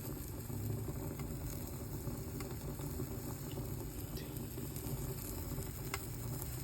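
Steak sizzling over an outdoor wood-fired rocket stove, a steady close crackling fry with faint pops throughout and no talking.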